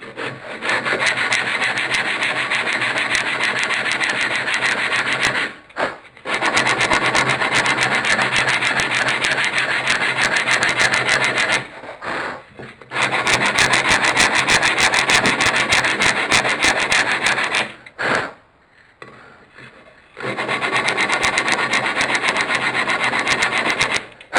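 Wood end grain being sanded by hand with coarse 60-grit sandpaper for a camera obscura kit: long, loud, steady scratchy rubbing strokes, close up, broken by brief pauses between runs.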